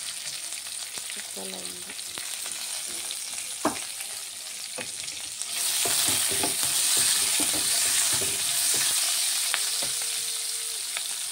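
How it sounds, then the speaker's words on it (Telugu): Garlic and onions fry in a pan for a paneer masala curry, a continuous close sizzle that grows louder partway through, with scattered clicks of a stirring spoon and a brief spoken remark. "వెల్లుల్లి, ఉల్లిపాయలు ఇవన్నీ 1 బై 1 ఫ్రై చేద్దాం"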